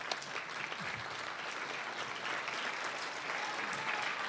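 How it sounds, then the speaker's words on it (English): Audience applause at a Calgary mayoral election forum, a steady, fairly quiet wash of clapping from a room of people that carries on evenly throughout. "Let's give them a round of applause."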